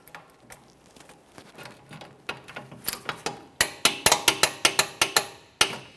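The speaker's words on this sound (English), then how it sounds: "Now I can torque this to that 73 foot-pounds." A torque wrench and ratchet tighten a rear shock absorber bolt on a 2014-2018 Mazda 3 to 73 foot-pounds, giving a run of sharp, close metallic clicks that grow louder and more rapid toward the end.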